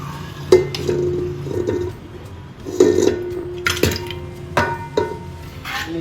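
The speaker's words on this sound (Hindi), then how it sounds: "चलिए सबसे पहले हम चिकन डालते हैं इसमें" Chicken pieces going into a pot as a layer of Hyderabadi biryani, with close metallic scrapes and clinks of a spoon against the pot in short separate bursts, no talking.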